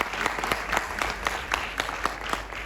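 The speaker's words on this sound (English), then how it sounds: "please clap for me" Students at a school Republic Day assembly clap in unison, a rhythmic series of about a dozen evenly spaced claps in a reverberant hall.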